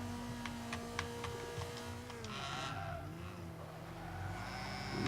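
Tires squeal and skid as the brakes lock up on a D Class Mazda MX-5 racing in Forza 5 on Mojave, over a steady engine drone, with a rising screech midway and no talking.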